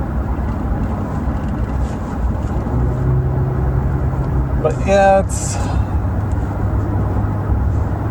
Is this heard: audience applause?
no